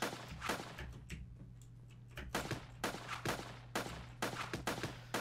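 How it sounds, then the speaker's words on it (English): Machine gun fire in the survival game Judgement Apocalypse Survival Simulation, heard as repeated short bursts of sharp shots over a steady low hum, coming in irregular clusters throughout. "There's a guy with a machine gun."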